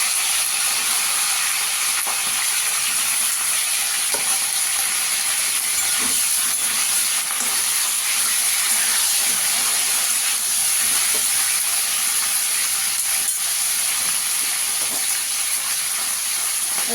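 Cauliflower florets frying in hot oil for a paneer and cauliflower curry give off a steady, even hiss of sizzling that runs unbroken from start to finish, with no voices.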